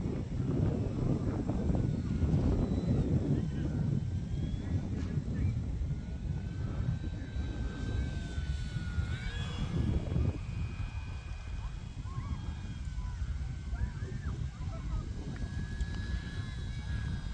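An E-flite F4U-4 Corsair 1.2 m electric RC model plane on a 4S battery flies at about half throttle in wind, its motor and propeller whining in the middle distance with pitch rising and falling as it passes.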